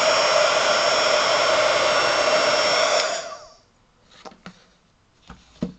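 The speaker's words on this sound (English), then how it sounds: "See what it looks like now if I hit it with the heat gun." A heat gun blows a loud, steady rushing whoosh at close range for about three seconds while melting wax on canvas, then shuts off and winds down, leaving faint handling clicks and taps.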